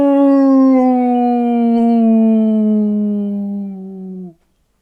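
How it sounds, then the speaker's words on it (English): A single long, loud howl rings out, starting strong and sliding slowly downward in pitch before cutting off abruptly. "An ear-splitting werewolf howl pierces the night."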